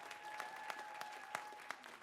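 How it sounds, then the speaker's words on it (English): Applause from a concert audience, quiet and distant, a short patter of scattered claps with a few sharper individual hits under a faint sustained tone. "Let's give her a big round of applause"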